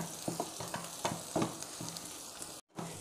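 Dried red chillies sauté in a hot pan for Pallipalayam chicken, giving a steady loud sizzle broken by the scrape of stirring, with a brief silent gap near the end.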